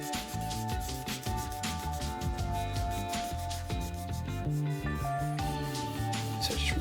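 Pencil lines being rubbed out on Bristol board after Sharpie inking, a continuous close scrubbing rub that runs steadily throughout, under a constant layer of background music.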